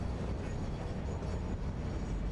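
Steady rumbling roll of a train in the factory-building video game Satisfactory, a dense low-heavy rush that holds at an even level throughout with no voices over it.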